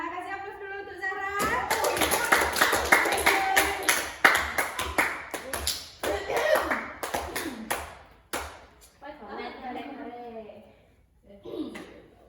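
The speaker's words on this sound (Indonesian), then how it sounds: "kasih aplaus dulu untuk Zahra" A group of young children at a kindergarten clapping for a girl named Zahra, bursts of fast, close hand claps mixed with an adult teacher's voice and children's chatter.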